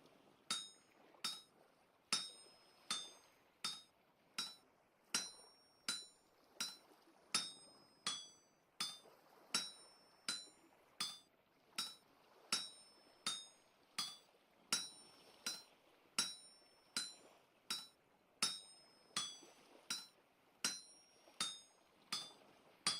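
Steady rhythmic hammering on an anvil while forging a finishing chisel in the video game Vintage Story, about one bright metallic clang per second with ringing overtones, continuing for the whole stretch with no voices.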